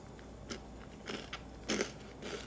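Cadbury Crunchie Rocks, milk chocolate clusters with cornflakes and crunchy bits, bitten and chewed up close: a few sharp, faint crunches spaced apart over low background noise.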